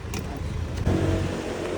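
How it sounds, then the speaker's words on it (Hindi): A car pulls up near an airport in Turkey to collect passengers, its engine humming close by and rising slightly midway as it arrives, with outdoor background noise and no talking. "ये हमारी गाड़ी आ गई है।"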